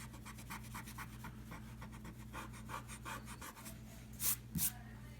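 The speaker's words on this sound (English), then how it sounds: "And then I just simply erase the lines that I made." Pencil lines being erased from paper with an eraser, a soft continuous rubbing scrape in quick repeated strokes, close and quiet, with two brief brighter scuffs near the end.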